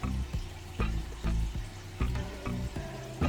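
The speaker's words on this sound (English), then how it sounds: "My hot water is already boiled, so I'm gonna put my saltfish in there." Saltfish goes into a pot of boiled hot water, giving watery splashing and bubbling. Irregular thumps and clinks against the pot sound close by, with no talking.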